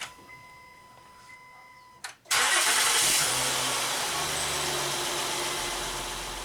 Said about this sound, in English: Now we can start it and run it for 3 minutes.